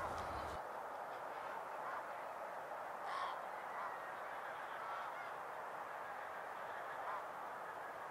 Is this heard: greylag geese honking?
yes